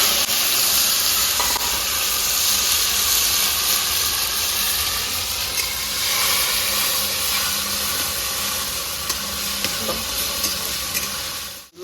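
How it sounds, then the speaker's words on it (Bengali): Chopped tomatoes fry in mustard oil with whole cumin in a kadai, a steady, close sizzle and steamy hiss with occasional stirring scrapes that lasts about twelve seconds without a voice. "টমাটো আমার হালকা ভাজা হয়ে গেছে।"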